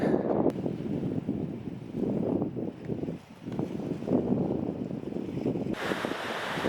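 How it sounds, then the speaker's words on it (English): Steady wind blows and buffets the microphone in rough gusts near a ski resort on the Pacific Crest Trail, with no one speaking. "It's a tad windy."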